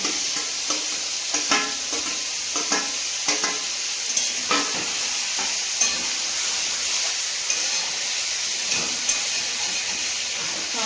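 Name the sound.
vegetables frying in a pan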